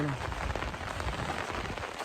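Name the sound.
rain falling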